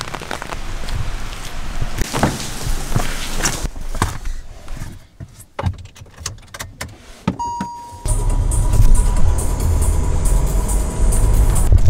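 Heavy rain falls on a vehicle in a steady broadband wash that swells to a louder, denser downpour for the last few seconds, with scattered sharper knocks and drips earlier on.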